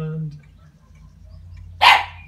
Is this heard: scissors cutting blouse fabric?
no